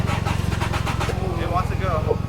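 A drive-by-wire car engine revs as the throttle opens, its low rumble steady and fairly close, with faint voices over it.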